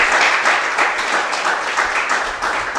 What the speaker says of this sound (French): je vous demande, avant même de passer aux questions, d'applaudir une fois de plus la présentation de Madame Serena